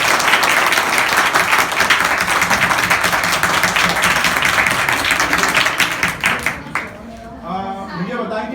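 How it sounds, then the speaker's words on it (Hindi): Schoolchildren in a classroom clap loudly together in a dense, sustained burst of applause that fades out near the end, with a few voices heard afterward. "पहले जोरदार ताली बजाओ।"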